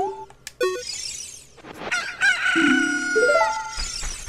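The Pocket Cuckoo chicken in Zelda: Ocarina of Time gives a loud, close, synthesized cock-a-doodle-doo crow, a rising then sustained game-sound call that stands alone with no talk over it.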